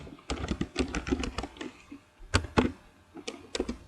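Typing on a computer keyboard while writing a database query, quick irregular clacks in short bursts with brief pauses, close and moderately quiet with no talk over them.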